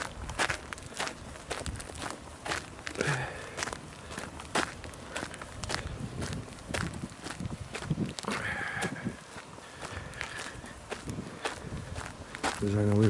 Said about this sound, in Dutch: we lopen nu weer richting de auto.